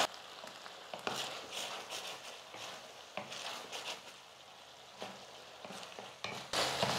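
Cabbage manchurian tossed and stirred with sauce in a hot pan, a steady soft sizzle with scraping spoon strokes that come in several bursts, close and without talk.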